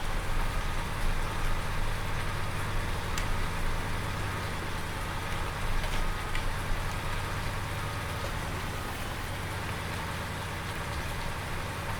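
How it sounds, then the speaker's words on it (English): Steady rain falls in a farming simulation game, a broad, even hiss that persists alone with a low engine-like hum beneath it. "It's funny really, it doesn't look like it should be raining."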